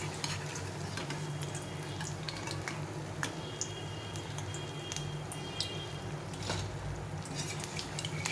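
Pumpkin fritters being lifted out of hot frying oil, a steady soft sizzle with scattered light clicks and taps of the utensil, close and continuous with no talk.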